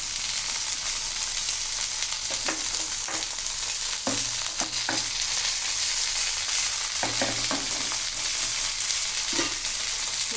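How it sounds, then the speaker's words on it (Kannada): Two Jilebi fish fry in a little oil with a loud, steady sizzle, close up, broken by occasional pops and stirring sounds, and no one speaks. "ಇವಾಗ 2 ಮೀನು ಹಾಕಿದ್ದೀನಿ, ನಾನು ಫ್ರೈ ಮಾಡ್ತಾಯಿದ್ದೀನಿ"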